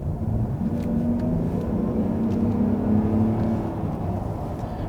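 A Mercedes-Benz GLS 400d diesel SUV engine drones with a low, steady rumble that rises slightly in pitch and strength, accelerating under load up a slight incline from about 50 km/h, heard from inside.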